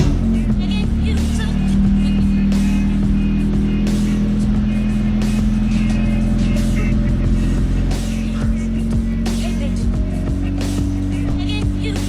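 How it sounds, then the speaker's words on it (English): A car engine runs steadily and loud throughout, a constant low drone with a few clicks and knocks over it, close by. "let me get the car started, let me pull it out in the sun"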